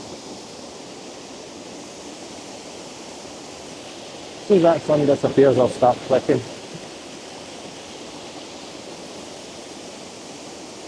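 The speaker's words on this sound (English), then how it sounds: "Some nice waterfalls up here, definitely, worth a visit." Steady broadband rush of a waterfall in Alva Glen, Scotland, constant and moderately loud, with someone speaking briefly over it midway.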